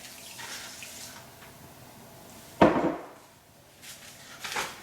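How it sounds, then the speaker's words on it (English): Chicken broth poured into a pot of chicken and rice, a short gurgling splash rising sharply mid-way after quieter kitchen handling noise, with a smaller splash at the end. "And then I'm going to pour my broth in here."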